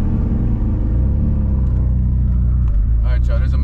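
A car engine pulls hard and close through a third-to-fourth gear shift, its loud, steady low drone briefly changing character near the end as the next gear takes hold.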